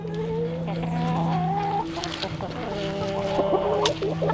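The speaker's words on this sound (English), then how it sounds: "these are my chickens right here" Chickens by a mobile chicken coop cluck loudly and close, a string of drawn-out, wavering calls overlapping one another, with a steady low hum beneath.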